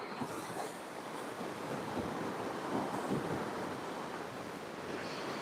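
Ocean waves wash in on a coastline shore as a steady broadband roar with soft surges, wind buffeting the microphone throughout, no voices.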